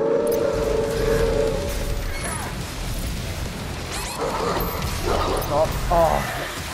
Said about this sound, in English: Oh, got the dogs again.